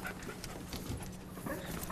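Police K9 dog working a narcotics search, with close panting, sniffing and scuffling, plus paws moving over the ground, continuous and moderately loud without speech.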